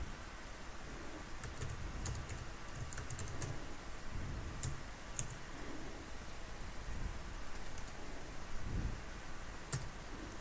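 Typing on a computer keyboard, a steady patter of soft, close key clicks over a faint background hiss, with no speech.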